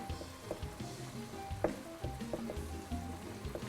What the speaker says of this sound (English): I'm just going to kind of stir that up a little bit with the heat